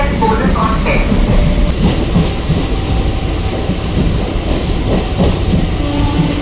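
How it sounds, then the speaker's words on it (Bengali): A passenger train runs from Howrah toward Bardhaman in rainy weather, heard from inside the carriage as a loud, steady rumble and rattle of wheels with faint clicks, with voices murmuring beneath it. "আর হাওড়া থেকে এখন ট্রেন ধরে যাচ্ছি বর্ধমানে"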